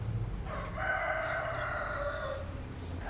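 A rooster crows once, a drawn-out cock-a-doodle-doo at moderate distance over a low steady background hum, with no talking.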